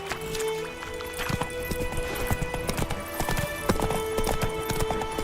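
Roach the horse gallops through The Witcher 3 video game, with steady, close hoofbeats clip-clopping in a quick rhythm over a bed of ambient game sound, with a brief whinny-like tone.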